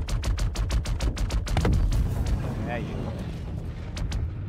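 A buggy is destroyed in the video game Star Citizen by rapid automatic gunfire, a fast run of sharp, evenly spaced shots followed by a heavier blast and rumbling debris. Someone briefly talks over the end.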